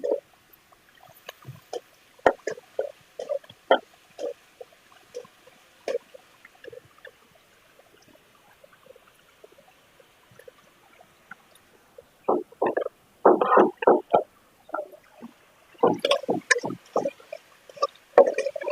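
Onion and ginger-garlic paste frying in mustard oil in a pan, heard as bursts of crackling and spattering that come in irregular clusters with quiet gaps between them, growing denser and louder toward the end.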